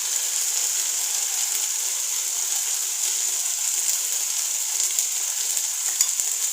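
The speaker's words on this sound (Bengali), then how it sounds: "লবণ হলুদ দিয়ে ভালো করে মশলাটা কষিয়ে নেব।" Masala sautéing in a pan with salt and turmeric, a constant bright hissing sizzle held at an even level throughout with faint stirring underneath.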